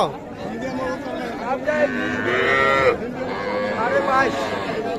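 Cattle and calves moo loudly and repeatedly at close range at Ambari livestock market, long drawn-out calls overlapping with people talking nearby in a busy outdoor setting.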